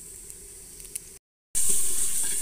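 Steady hiss and sizzle of onions and chilies frying in hot oil, close by, briefly cutting out before returning louder.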